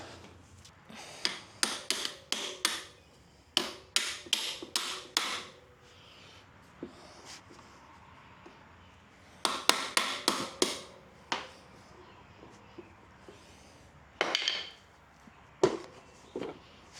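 A hammer strikes parts of a 1976 Honda Elsinore CR125 motorcycle during race prep, landing in clustered bursts of sharp metallic blows separated by quiet pauses, close and loud.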